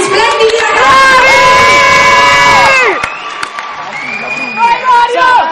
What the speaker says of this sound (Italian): Un applauso a questi splendidi ragazzi!